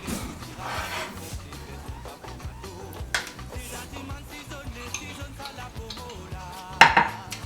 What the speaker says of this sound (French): Les restants du riz, on les mélange avec les légumes.